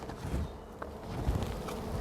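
Honey bees buzzing around an open hive during an early-season inspection, a soft continuous hum close by with a few faint knocks and shuffles mixed in.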